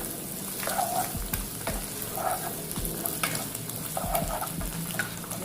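Garlic sizzles in hot oil in a pan, a steady close crackle with soft scraping strokes of stirring every second or so, no voices over it.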